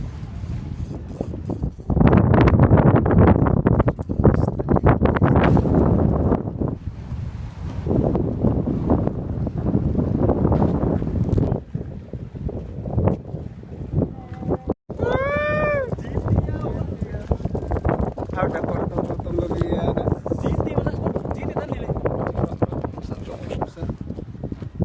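Strong wind at a pier buffets the microphone with a heavy, roaring rumble while people talk over it.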